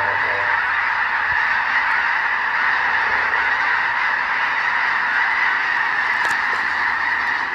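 Thousands of snow geese in North Dakota honk together as a dense, continuous chorus, loud and steady throughout with no talk over it.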